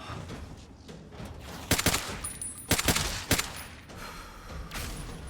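Bursts of gunfire in the Fallout: Tale of Two Wastelands mod, several sharp volleys of shots standing out over a steady ambient wash, clustered in two or three groups partway through.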